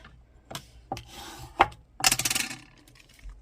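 Scissors trimming a small protruding branch off a die-cut paper card, heard as a few close, scattered snips and rustles followed by a brief burst of rapid scraping and clicking.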